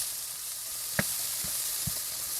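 Steady, soft sizzling of onion and zucchini frying in a pan, with a few quiet knocks and taps of utensils scattered throughout.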